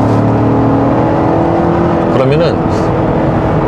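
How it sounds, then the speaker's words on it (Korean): A 2022 Chevrolet Tahoe High Country with a 6.2L V8 gives a steady low engine drone inside the cabin, rising slightly in pitch as it accelerates on kickdown. Someone talks over the engine throughout. "예를 들어서 이렇게 킥다운을 하잖아요."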